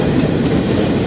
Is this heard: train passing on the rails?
yes